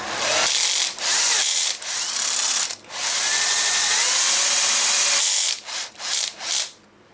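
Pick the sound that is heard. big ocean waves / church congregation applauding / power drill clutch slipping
power drill clutch slipping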